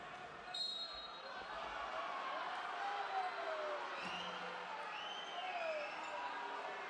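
A large basketball arena crowd at a Champions League game reacts to a referee's decision with a sustained, rumbling roar, whistles and scattered whoops, while sneakers squeak on the court.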